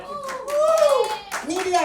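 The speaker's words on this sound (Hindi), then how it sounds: "जरा आप लोग भी जरा तालियां बजाइए।" Brief clapping from the crowd at a music video launch event, mixed with voices and calls rising over the hands for under two seconds.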